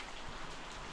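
Heavy rain pours steadily in a Bulawayo, Zimbabwe garden, a dense continuous hiss of drops drumming on surfaces with no pauses.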